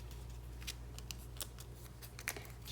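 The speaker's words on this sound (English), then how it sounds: "So I'm going to run these two through the die cut machine." A die cut machine cuts adhesive-backed card letters with quiet, irregular clicks and crisp snipping ticks in a hushed crafting room.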